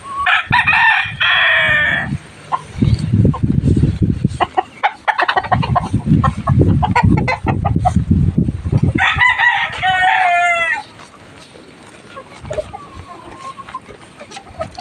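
Farmyard chickens on a hot day, loud rooster crows at the start and again near ten seconds, with clucking from the flock and someone talking over much of it.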